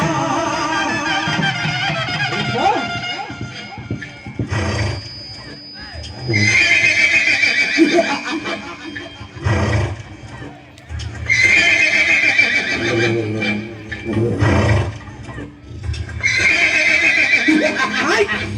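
During a village Karuppasamy ritual, a person imitates a horse's neighing in repeated loud whinnying bursts, mixed with voices, crowd noise and drumming throughout.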